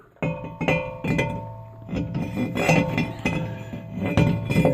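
New brake rotor being set onto the wheel hub of a 2010 Chevrolet Traverse during a brake job, giving a series of close metallic clinks and clanks at an irregular pace with no talking.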